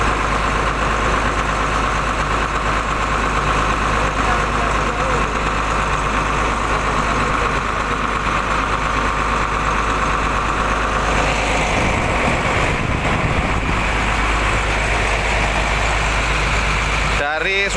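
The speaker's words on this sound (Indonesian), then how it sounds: "halus banget suara mesinnya itu" A bus engine idles steadily and smoothly, a low continuous rumble that holds constant throughout with no revving.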